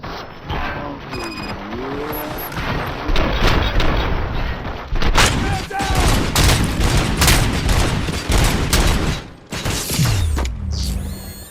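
Sustained gunfire and booming impacts in the RoboCop: Rogue City video game, a dense fusillade of shots with mechanical clatter and heavy blasts filling the whole stretch, loud and close.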